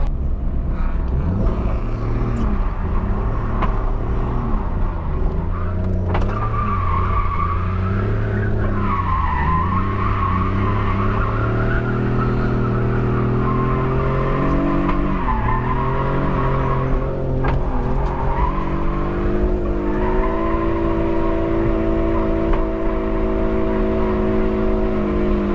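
A drift car on its first lap of a track, with loud tire screeching and skidding layered over the steady roar of a revving engine whose pitch climbs and falls through slides across the whole stretch, with no talking.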